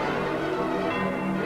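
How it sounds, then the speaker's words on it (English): Church bells of St. Peter's at the Vatican in Rome ring out in peace, a dense, steady wash of overlapping tolls filling the air continuously with no voices over it. "the Vatican bells of St. Peter's ring in peace"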